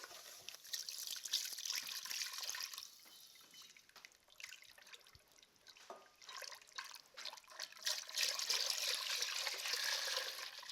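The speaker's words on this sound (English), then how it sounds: "I'm going to add my milk gradually." Milk is poured gradually into a butter-and-flour roux for béchamel, giving a soft, faint liquid trickle and splashing with light stirring in a quiet kitchen.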